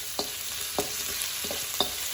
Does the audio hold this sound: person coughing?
no